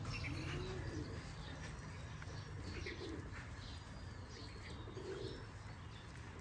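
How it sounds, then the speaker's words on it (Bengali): Giribaj pigeons at a loft coo softly with occasional chirps and a wing flap while being fed mustard seed, faint and distant over steady background hiss. "তো সরিষা খাইতে দিতে হচ্ছে কবুতর এখন।"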